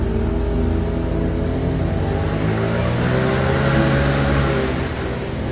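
An internal combustion engine running mostly on water with a little gasoline mixed in drones steadily and loudly, its pitch rising as it revs up over several seconds.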